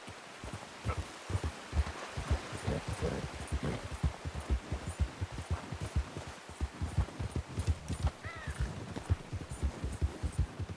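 Steady rhythmic hoofbeats of horses trotting on a soft surface in Red Dead Redemption 2, continuous and close, with light rustling underneath.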